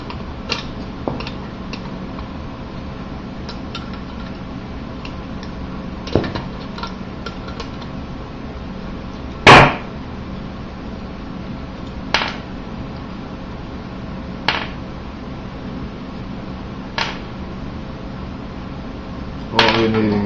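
Screws come out of an Xbox 360 console in a few sparse, sharp metallic clicks and taps spaced several seconds apart, one louder clatter midway, over a quiet steady hum.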